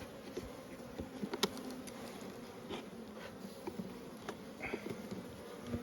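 Honeybees buzz at a hive in a quiet, continuous drone, with scattered faint ticks and taps of insects moving about, heard fairly distant and low in level.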